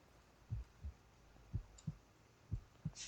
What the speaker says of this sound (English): you can hear my heartbeat